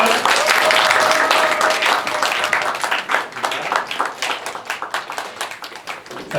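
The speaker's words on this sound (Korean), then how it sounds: "자, 이 두 분은 박수할까요?" A church congregation at a high-school Sunday service applauds two award winners, a dense burst of clapping that thins into scattered claps as a voice speaks over it.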